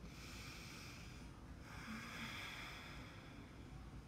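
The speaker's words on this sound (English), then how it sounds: "you'll always hear yogis make this sound when they breathe in" Yogic breathing with an audible throat breath, a faint, steady, hissing rush of air drawn in at close range, with no talking.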